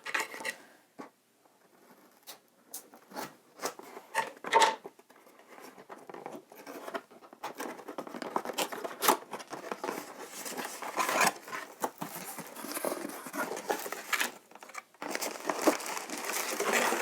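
Crinkly plastic rustling and short snipping, scraping sounds as scissors cut and pull open the packaging of an escape room board game, close up with no talking.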